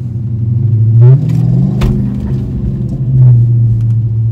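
Dodge Demon V8 with a resonator delete, Corsa power core intake and J Green tune, revved lightly at quarter throttle: a loud, close, deep rumbling idle that swells into two short throttle blips.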